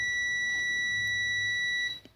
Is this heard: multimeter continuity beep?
yes